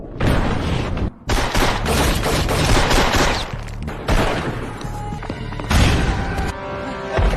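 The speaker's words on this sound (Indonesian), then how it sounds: "Nyaris mati akibat granat yang meledak di hadapannya, Jack kembali bangkit" Loud bursts of gunfire and heavy booming grenade explosions from a film, rapid volleys broken by brief pauses, with crashing debris between blasts.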